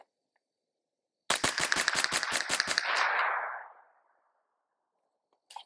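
A firearm fitted with an ELF Match flat trigger empties a magazine in a fast string of about a dozen loud, close shots. The final report is followed by a long echoing ring that fades out, and no one speaks.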